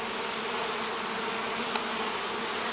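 A honey bee swarm just out of its colony hums in a dense, continuous buzz, close and steady throughout with no voices.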